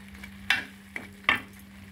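Chicken fry sizzles gently in a pan while being stirred slowly, with two or three sharp scraping clinks of the spoon over a low, steady background.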